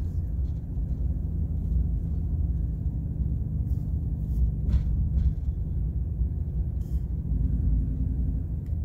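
A car rolls through a housing community of varied homes, its low steady rumble of road and engine noise constant and fairly quiet, with faint wind buffeting and no talking.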